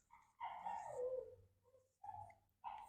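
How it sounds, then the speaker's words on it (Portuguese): Puppies whimpering inside a cage, high drawn-out whines and short yips in three separate bursts, moderately close and fairly quiet, with no talking over them. "Não sei se vai dar para vocês ouvirem os cachorrinhos. Tem um chorãozinho ali na gaiola."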